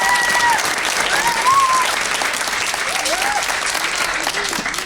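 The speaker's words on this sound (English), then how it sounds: "Let's give them another round of applause." An audience at a children's theater production of Hansel & Gretel applauds in a loud, sustained roar of clapping with a few whistles rising above it, steady for several seconds.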